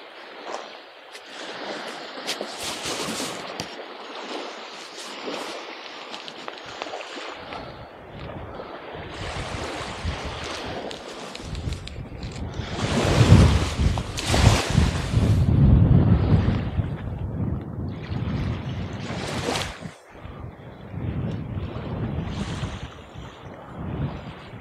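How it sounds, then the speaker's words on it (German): Sea surf rushes softly in the background, a fluctuating low wash that swells louder in the middle and then eases, with occasional handling noise. "Man kann das Meer ein bisschen rauschen hören."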